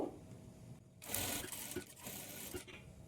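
A sewing machine stitches a blouse in bursts, its broadband mechanical whir starting after a brief quiet moment and running steadily with small ticks and pauses, close and moderately loud.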